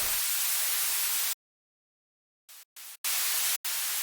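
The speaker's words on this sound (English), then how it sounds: "adding a bit of a white noise layer with an envelope" A burst of white noise hisses, cuts out to silence, then returns in short gated chops before holding steady.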